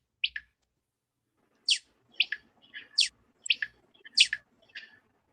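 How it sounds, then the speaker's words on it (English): Bird song in Nigeria: a series of short, high chirping phrases in irregular bursts, fairly close and clear against an otherwise quiet background. "now the bird singing"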